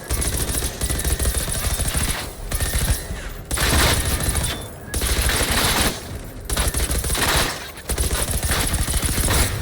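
Heavy sustained bursts from an experimental M60 machine gun in the video game Generation Zero, loud and near, with long rattling strings of fire broken by short pauses and no talk.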